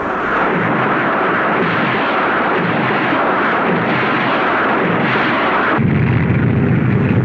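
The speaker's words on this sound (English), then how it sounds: "Once ashore, now fired from land vehicles, the rockets are a highly maneuverable and effective weapon in laying down intense barrages" Rocket barrage fired from land vehicles, 1945 U.S. Navy wartime footage: a dense, continuous roaring rush of launches and blasts throughout, loud and close, deepening into a heavier rumble near the end.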